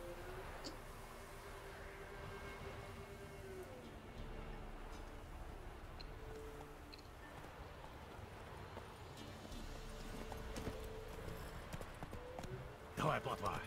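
Horse hooves clip-clopping in The Witcher 3 video game, a steady rhythmic gallop running under continuous game ambience, with speech heard over it.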